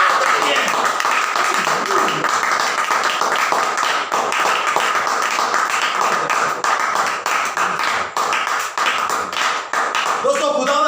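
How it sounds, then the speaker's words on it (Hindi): A church congregation claps hard and fast in dense, loud applause that fills the room and continues throughout, with a few voices and cheers mixed in. "यीशु के नाम में एक बार जोरदार तालियां"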